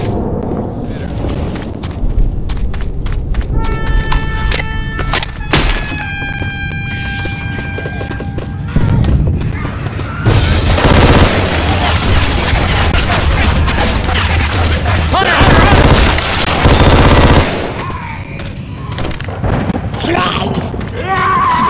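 Grenade launcher explosions in the video game Left 4 Dead 2: loud, heavy booms and crashing blasts pile up with gunfire and chaotic game noise, rising in long roaring stretches, while players shout over the din.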